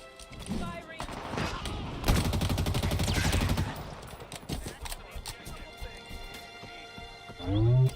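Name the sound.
gunfire from a gun in the video game Halo Infinite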